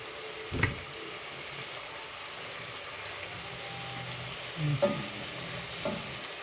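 Kare-kare stew being stirred gently in a pan, with a steady low sizzle throughout and a few soft scraping stirs near the start and toward the end, close and fairly quiet, no talking.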